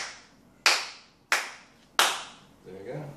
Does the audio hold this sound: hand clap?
yes